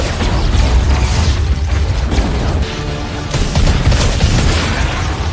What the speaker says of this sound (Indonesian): pesawat mereka datang dan langsung memberondong para monster dengan meriam laser